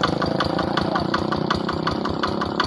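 A Quick Impala hand tractor's single-cylinder engine chugs steadily up close, a rapid, even knocking beat that stays loud throughout while it moves to a new spot.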